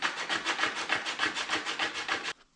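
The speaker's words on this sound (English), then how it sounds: "then I will take a sandpaper and smoothen it out" Sandpaper rubbed back and forth over the cut edge of a Vespa 300 GTS handlebar grip area, a close, steady run of about a dozen rhythmic scraping strokes that stops abruptly near the end.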